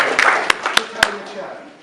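A festival crowd in Waltham Abbey cheers and claps for the Cucumber Festival, a short burst of loud, close applause with sharp individual claps and voices mixed in.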